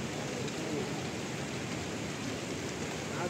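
Steady rain falls on the Kedarnath trek, a constant broadband hiss of drops with no pauses, fairly loud and close throughout, with no voices heard over it.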